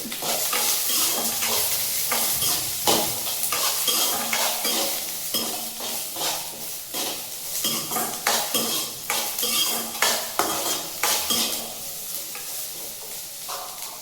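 Onions frying in a pan until golden brown for a village-style greens curry, with a steady sizzle and repeated scraping, stirring clinks of a spoon against the pan throughout.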